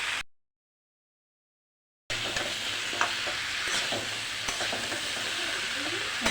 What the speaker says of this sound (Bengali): সবজিগুলোকে ভেজে নেবো লবণ দিয়ে, পরিমাণ মতন লবণ দিয়ে দেবো